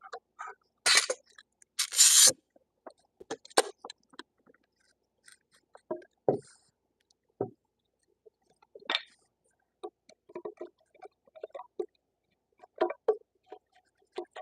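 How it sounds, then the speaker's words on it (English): A hand chisel cuts through wood for a bunk bed mortise in traditional carpentry, producing scattered scraping rasps and sharp taps separated by quiet pauses, close and fairly soft. "I know I got to chisel all the way so I can feel I'm all the way through it there."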